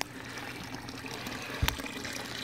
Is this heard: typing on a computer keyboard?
no